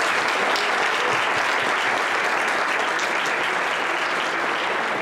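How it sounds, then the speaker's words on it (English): A room full of attendees at a community energy committee roundtable applauds, a continuous dense wash of clapping that holds steady and fairly loud for about five seconds. "Big round of applause for all of you."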